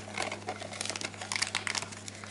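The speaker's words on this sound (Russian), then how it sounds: "Давай пакетик ванилина высыпем." A small paper sachet of vanillin crinkles and rustles in short bursts as it is opened and emptied into cake batter while baking cupcakes at home, quiet and close.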